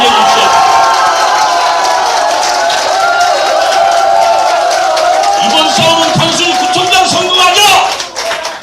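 A large crowd at an outdoor political rally announcing a district mayor by-election candidacy claps and cheers loudly and continuously, with sustained tonal voices or music riding over the applause before it thins out near the end.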